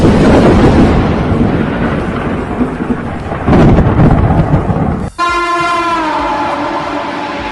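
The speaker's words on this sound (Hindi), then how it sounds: "जिससे प्रदेश में झमाझम बारिश हो रही है।" Heavy rain roars steadily with deep rolling thunder for about five seconds, then cuts off abruptly to a different, sustained tonal sound.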